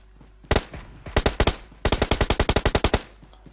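Automatic gunfire in a shooting video game, with a single shot, a short burst, then a long rapid burst of about a dozen loud, close shots.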